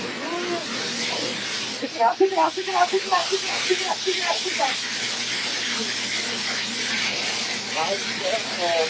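Ice hitting hot fryer grease sets off a loud, continuous hiss with steam-like roar and bursts of violent sputtering, with voices talking over it.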